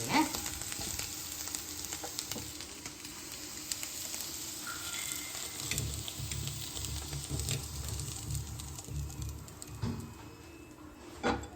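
Baby potatoes with kasuri methi roast in a hot kadai, a quiet, steady sizzle and frying crackle with occasional stirring scrapes.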